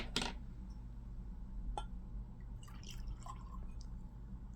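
Auchentoshan 12-year-old triple-distilled Scotch whisky is poured into a glass, starting with a sharp clink and followed by soft, faint liquid trickles and small drips against a low background hum.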